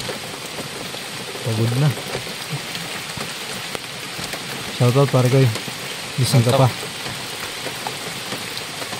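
Heavy rain pours down steadily in a dense, constant wash during a night of stranded rigs, while people talk over it in short bursts.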